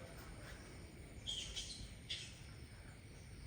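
Birds calling outdoors on Thiruvonam day: two or three faint, brief chirps from far off, heard over a quiet background hiss, with no talking.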